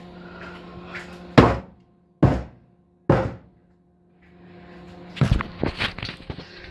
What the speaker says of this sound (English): you'll bang it on the counter to get any air bubbles out